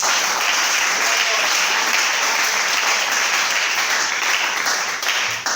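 A church congregation applauds continuously and loudly during an evangelical service, a steady dense wash of many hands clapping close and filling the room from start to finish.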